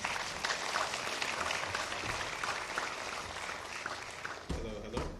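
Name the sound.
audience applauding seminar panelists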